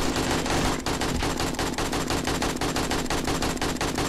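Rapid automatic gunfire from the video game 7 Days to Die (Darkness Falls mod) during a zombie horde night, loud and dense, with bursts that run together into a continuous rattling barrage for the whole stretch.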